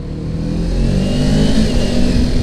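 A 2018 Kawasaki Ninja 250 motorcycle accelerates with a steady, loud engine drone and low rumble that holds throughout, close by, with no voices.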